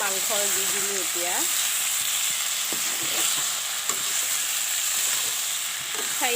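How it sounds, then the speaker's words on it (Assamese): Broiler chicken meat sizzles and fries in a karahi with ginger-garlic paste, a steady close crackle broken by stirring scrapes, while someone talks over it. "কেৰাহীত মই মাংস দি দিলোঁ এতিয়া"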